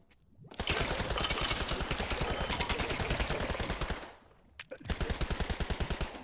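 A machine gun in a Minecraft game fires two rapid, loud bursts of closely spaced shots: a long volley, a brief pause, then a shorter one.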